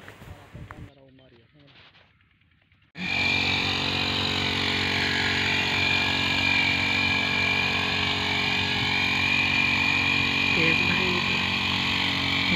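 A generator engine kicks in abruptly after a few seconds of quieter voices, then runs loud, close and steady with a constant droning hum to the end.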